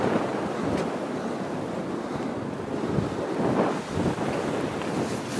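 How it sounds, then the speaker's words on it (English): Wind blows hard around a power station cooling tower, producing a steady, loud roar and buffeting against the microphone throughout, with no voices. "It's just windy when you get here, isn't it?"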